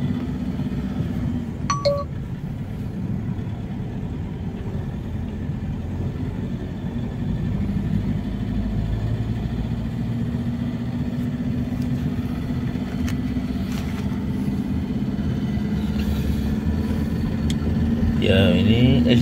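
Traffic pulls away from a traffic light at a crossroads, with a steady low drone of car and motorcycle engines that swells slightly toward the end, plus a brief clink near the start.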